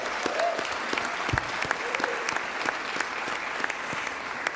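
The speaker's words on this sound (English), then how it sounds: "Let's give it another round of applause." A large audience at the 150th graduation ceremony of Bloomfield College claps steadily and continuously for several seconds, a dense, sustained round of applause with scattered sharp claps standing out and no speech over it.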